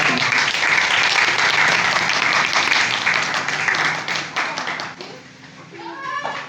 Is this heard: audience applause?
yes